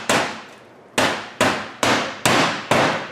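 Hammer blows driving nails during a roof vent installation: six sharp, loud strikes, the first alone and then five in a steady rhythm about half a second apart, each ringing briefly.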